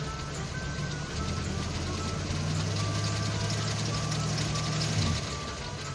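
A 1939 Ford engine is revved while checking whether it charges, giving a steady close mechanical drone that rises and holds for a few seconds before easing back, with faint voices nearby.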